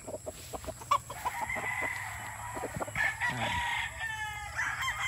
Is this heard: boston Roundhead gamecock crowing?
yes